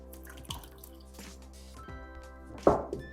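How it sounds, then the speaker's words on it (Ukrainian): Milk pours over poppy seeds with sugar in a kitchen, making a few wet drips and splashes, with a louder glug near the end over a quiet background. "Я буду використовувати молоко вливаю молоко"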